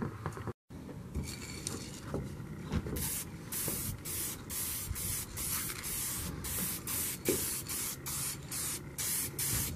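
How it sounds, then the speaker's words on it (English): Montana Hardcore aerosol spray paint hisses in long continuous bursts with brief pauses, close and loud, as a vehicle is painted. "We're always spray painting something."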